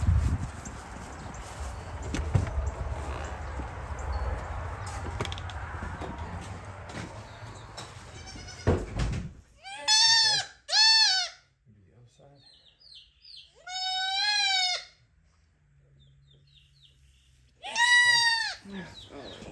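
Goats on a homestead bleat in several loud, wavering calls spaced across the second half, after a noisy stretch of handling and background clatter at the start.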